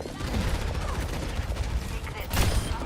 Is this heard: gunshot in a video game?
yes